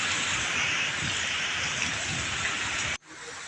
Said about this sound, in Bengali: সবুজ মাঠটি আলু খেয়ে অজারে বৃষ্টি পড়ছে